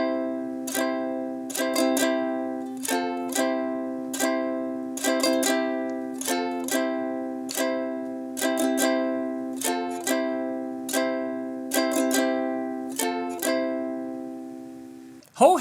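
A ukulele strums a pop song alone, with clear, bright chords struck in a steady repeating rhythm of paired strums, at moderate volume with no talk.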